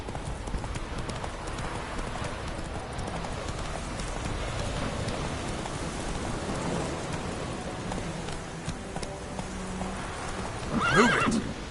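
Roach the horse in The Witcher 3, steady hoof clip-clop under rain, with a sharp neigh near the end.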